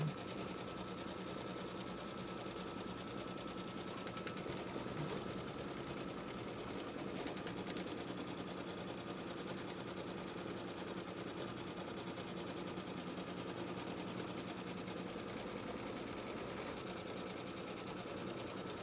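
An embroidery machine stitches tack-down lines on a quilt block in a steady, fast, even hum that runs alone and unbroken throughout at a moderate level.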